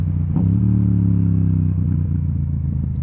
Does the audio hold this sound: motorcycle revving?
yes